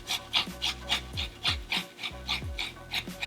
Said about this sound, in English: So we're just gonna go ahead and grate that.